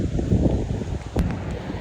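Sea breeze gusting into an outdoor microphone at the seaside, a steady low rumbling buffet with brief louder puffs, no voices.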